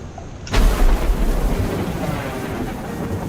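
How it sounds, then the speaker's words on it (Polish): A heavy boom of thunder from an approaching storm in Hello Neighbor 3 breaks abruptly out of near-silence, then rolls on as a dense, loud rumble with a steady rain-like wash continuing underneath. "Ok, burza już nadchodzi."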